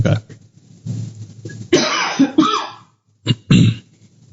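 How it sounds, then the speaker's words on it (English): Several harsh coughs close up, in uneven bursts with pauses, including a couple of throat-clearing hacks. "I need to cough, so give me 1 second."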